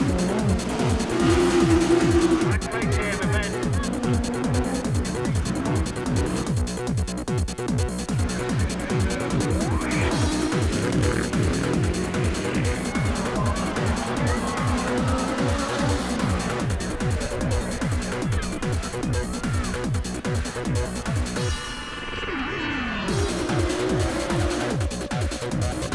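Autograss 1000cc race cars race on a grass track. High-revving engines roar continuously, rising and falling as the cars accelerate and change gear, with a constant loud, busy racing din.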